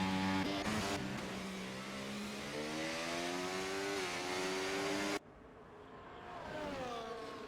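Race cars on an out-lap in a racing video game at Las Vegas, with steady engine drone and rising pitch as they accelerate, cutting abruptly to a quieter engine note that climbs again.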